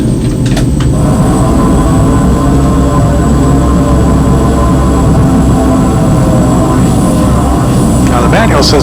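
Airliner engines spooled into reverse thrust on the landing rollout at Seattle-Tacoma airport, a loud, steady broadband roar heard from the cockpit that holds level through the whole stretch with rumbling low end.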